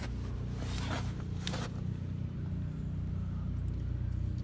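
Lifted 2010 Toyota Tundra SR5 TRD 4x4 on 37s with dual Cherry Bomb mufflers, a steady low exhaust rumble at idle, moderately throaty but not very loud, with a few brief rustling noises nearby.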